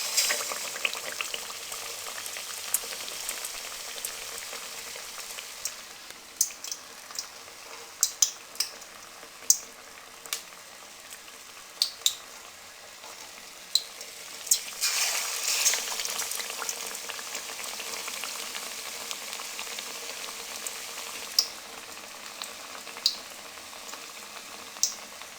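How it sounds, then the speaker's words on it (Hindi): Batter-coated chicken potato kababs fry in oil over a low flame, giving a faint continuous bubbling sizzle scattered with small sharp pops and crackles, with no one talking. "लो फ्लेम पे इनको फ्राई करेंगे।"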